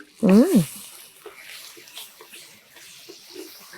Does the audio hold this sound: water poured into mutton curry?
yes